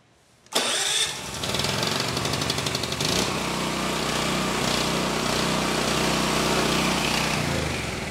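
A portable generator with push-button and recoil start fires up after a brief start burst, then runs at a steady, loud, close drone for several seconds with no talk.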